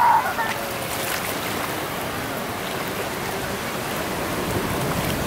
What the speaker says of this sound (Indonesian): ombaknya datang